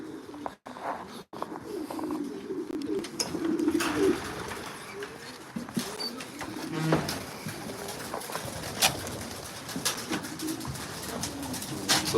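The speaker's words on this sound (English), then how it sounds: "let's go see the guys, or the birds that came in and they're eating their barley" Racing pigeons coo steadily in a loft after returning from a flight, their low repeated calls close and continuous, with a few wing flaps and occasional chirps.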